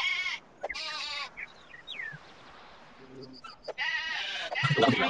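Game sheep in Black & White 2 bleat in loud bursts at the start and the end, with quieter bird-like chirps and faint noises in the lull between them.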